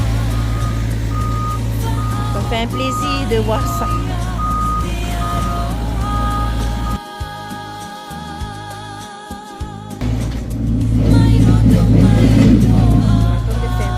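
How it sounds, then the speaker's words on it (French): A truck manoeuvring into a corner at a street event in Uturoa, Raiatea, with loud, repeated reversing beeps over a rumbling engine, a brief pause in the middle, and people talking nearby. "On va essayer de voir s'ils peuvent pousser le camion dans le coin."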